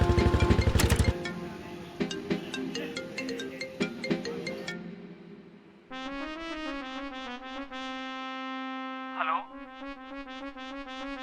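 A mobile phone ringtone plays in a melodic electronic pattern, loud and close, first over clattering noise and then alone in a clear repeating tune lasting several seconds.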